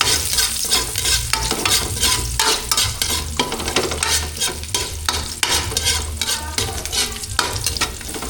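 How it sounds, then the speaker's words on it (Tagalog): Chopped garlic frying in a pan for a Filipino chicken-and-tomato dish, stirred continuously: steady loud sizzle with repeated scraping strokes of the spoon against the pan throughout. "Haluin mo na ng haluin para hindi masunog guys."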